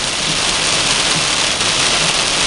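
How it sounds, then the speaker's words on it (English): Hard rain pours down during a motorcycle ride, a loud, dense, unbroken hiss with no gaps and no voices over it. "It's raining hard."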